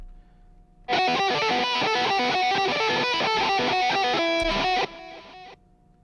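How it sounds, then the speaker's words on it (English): A distorted lead guitar plays through a ping pong delay, a dense run of loud, rapid repeated notes with echoes filling the space, lasting about four seconds and then cutting off. "So then you add the ping pong delay and it fills in the left and the right."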